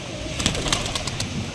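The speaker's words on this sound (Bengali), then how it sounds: "এই যে এখানে সব কবুতরগুলো নামবে এখন" Giribaz pigeons at a farm on a rainy monsoon day give soft coos close by, with a brief wing flutter amid steady background hiss.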